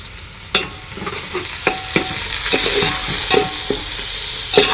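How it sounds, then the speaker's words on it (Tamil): Onions fry in oil in a pot for turkey biryani, a loud, close, continuous sizzle punctuated by regular scraping stirs of the spoon against the pan. "வெங்காயம் நல்லா பொன்னிறமாக வந்துடுச்சு"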